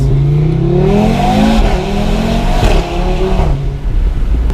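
A loud 2018 Audi RS3 with a decat downpipe, engine revving hard with rising and falling pitch, close and raw, a deep rasping roar that holds throughout with a brief dip near the end.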